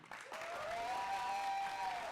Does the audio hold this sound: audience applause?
yes